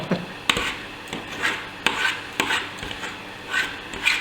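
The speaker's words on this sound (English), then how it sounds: "now I'm going to shred this leg meat" Close, repeated rubbing and tearing noises, soft wet scrapes in an uneven rhythm, as cooked chicken leg meat is shredded by greasy hands.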